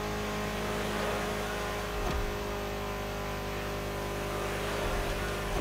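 A racing car engine in The Crew Motorfest video game, set in Hawaii, roars loud and steady for several seconds, with a brief surge near the start as it revs, and no speech over it.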